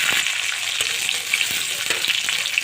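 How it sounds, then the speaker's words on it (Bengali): Onion and sliced green chili fry in soybean oil in a pan, giving a steady, close, crackling sizzle with a few sharper pops and stirring scrapes throughout. "তো আমার পেঁয়াজ একটু ভাজা ভাজা হয়ে গেছে, এখন আমি কাঁচামরিচ ফালি দিয়ে দেবো"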